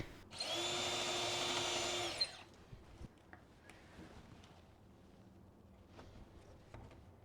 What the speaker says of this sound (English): I like to use a scrap block of wood while drilling through thick material like this.